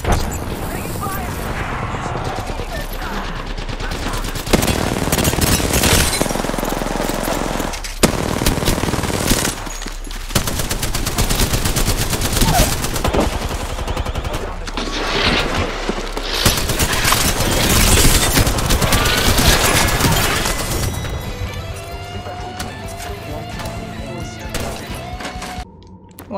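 Nearly continuous video game gunfire in a shields-based shooter, dense automatic bursts and impacts filling the whole stretch, loud and close, with players talking over it.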